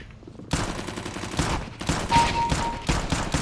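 Loud, close bursts of rapid video-game gunfire begin abruptly and continue in uneven volleys, rattling shots piling over each other with a brief tonal beep partway through.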